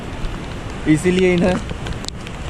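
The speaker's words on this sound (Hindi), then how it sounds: "बारिश तो तेज़ वाली हो रही है" Heavy rain pours steadily during sudden stormy mountain weather near Dehradun, a constant dense hiss through the whole stretch, with someone talking briefly over it.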